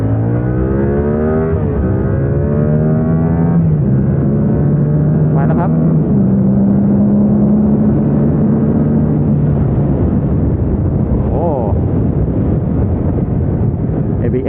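A Yamaha YZF R7 engine drones loudly on the Chang circuit track in Thailand, its pitch stepping down through downshifts toward first gear, close and continuous with heavy wind rush throughout.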